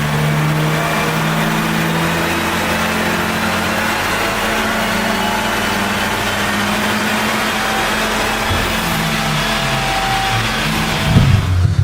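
A tuned VW Golf 8 GTI engine with overrun crackle activated revs and drones steadily at close range for around twelve seconds, its pitch shifting through the run and ending in a burst of pops, with no talk.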